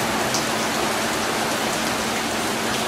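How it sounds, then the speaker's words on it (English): Heavy rain pours down steadily during an Oklahoma thunderstorm with a tornado watch, a loud, dense, unbroken hiss close by. "Big rain."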